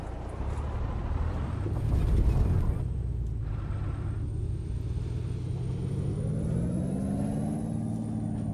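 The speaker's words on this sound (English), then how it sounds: "Turbo sounds a bit weird." A truck in a trucking video game, hauling a train-coloured trailer, gives a steady low engine rumble with a faint, thin turbo whine rising and falling over it, plus a brief louder surge early on.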